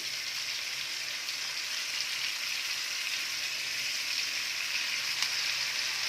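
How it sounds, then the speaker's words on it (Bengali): Chicken pieces fry in a pan of oil, a dense, even hiss that holds steady without a break, close and moderately loud, with no talking. "যে কটা চিকেন আছে, আবার সেম প্রসেসে আবার আমরা ভেজে নেব"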